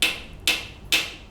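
Three sharp knocks, evenly spaced about half a second apart, ring out clearly over a quiet background in an escape-room style tabletop game scene.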